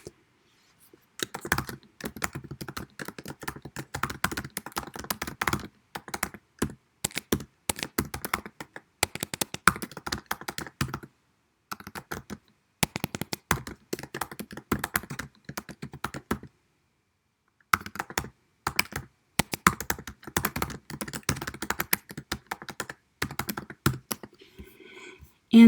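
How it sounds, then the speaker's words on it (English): Fingers type on a computer keyboard in quick clattering bursts of close, light keystrokes, broken by short silent pauses. "you would then type the answers to the questions"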